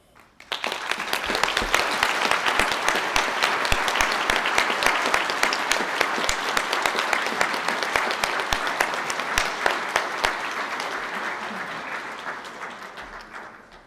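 Sustained applause from a seated crowd at a hotel school graduation ceremony, honoring business and hotel catering management graduates; dense, even clapping swells quickly and holds for over ten seconds before tapering off.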